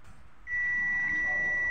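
A multimeter continuity tester gives a steady electronic buzz-tone while checking an IGBT in a faulty inverter welding machine, starting abruptly and holding unbroken to the end, loud and close over faint background noise.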